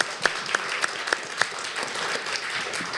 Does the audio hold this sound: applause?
yes